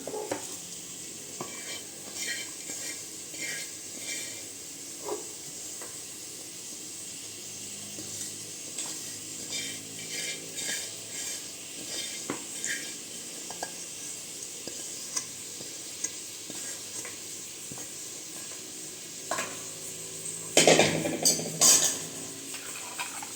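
Onions sauté in a pan, stirred with frequent scraping and soft clicks over a low sizzle, then a louder burst of clatter near the end.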